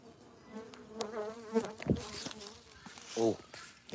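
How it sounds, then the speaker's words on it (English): Honeybees swarm around a hive in cold weather, producing a steady insect drone with louder buzzes as individual bees fly close past; no one talks over it. "Our honeybees. They're cold still."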